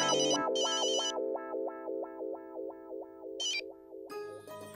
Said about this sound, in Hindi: जीनी को फोन करता हूँ।